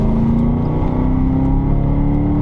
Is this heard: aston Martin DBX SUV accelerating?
yes